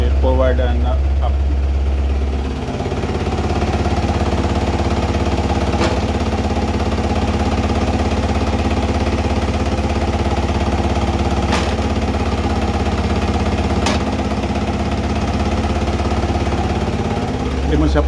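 A free fall lifeboat engine idles in a steady, loud, low rumble running unbroken throughout, with a few sharp clicks and someone talking over it.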